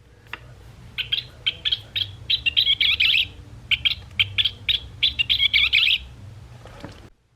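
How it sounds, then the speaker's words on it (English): A Wild Republic plush toy plays a recorded scissor-tailed flycatcher call: two runs of sharp, chirpy bursts, close and clear over a faint low hum, ending with a soft click. "Scissortail flycatcher."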